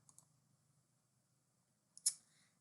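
A mouse click on a Share button: two faint light clicks early on, then one sharper, louder click near the end over a quiet room.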